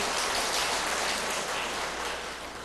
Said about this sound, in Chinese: 所以请各位弟兄姐妹给我一点掌声